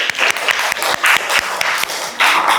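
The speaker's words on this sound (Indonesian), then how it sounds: "Oke, tepuk tangan untuk kelompok 1." Classroom applause for a student group, a burst of many hands clapping in quick irregular rhythm, close and loud, continuing steadily with no talking over it.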